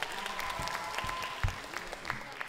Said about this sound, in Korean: 우리 박수로 환영해 주세요. 박수.